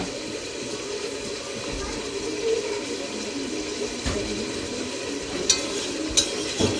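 Steady sizzling hiss of food frying in a pan, with a few sharp clinks and knocks and quiet voices murmuring in the background.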